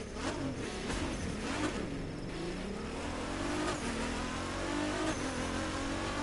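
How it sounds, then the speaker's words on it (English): A Nissan GT-R in The Crew 2 revs and accelerates through its gears, engine pitch climbing and dropping with each shift, steady and continuous, no voices over it. "Sounds like a GTR too."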